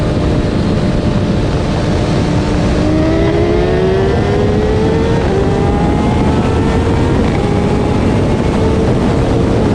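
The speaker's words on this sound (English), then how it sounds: "BMW S1000RR with a full exhaust and a tune versus stock McLaren 720S" Loud, continuous engine roar from a BMW S1000RR motorcycle with a full exhaust and tune racing a stock McLaren 720S, rising pitch sweeps of hard acceleration layered over heavy wind and road noise, with no voices.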